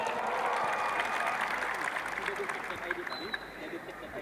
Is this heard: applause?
yes